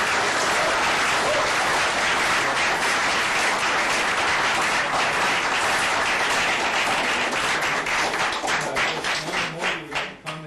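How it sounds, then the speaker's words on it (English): Audience applause fills a city council chamber, steady dense clapping held for about ten seconds before thinning into scattered individual claps at the end. "Let's give them a big round of applause."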